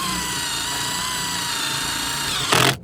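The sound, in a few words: drill boring cooling hole through heat sink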